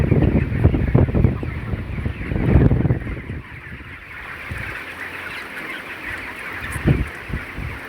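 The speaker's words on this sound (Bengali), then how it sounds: "গরমের কারণে মুরগি অস্থির হয়ে গেছে মুরগি হাঁপাইতেছে" Chickens restless and panting in summer heat let out loud, harsh squawks and honking clucks. They come in bursts over a steady background of farm noise.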